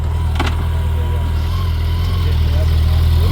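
A Yamaha RD 350 LC two-stroke motorcycle engine runs steadily at a loud, close idle with a low droning hum, a brief rev-like swell early on, and a voice faintly audible.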